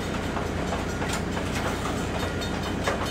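A long CN freight train rumbles steadily past nearby, with continuous clickety-clack of wheels over rail joints and a broad, even roar.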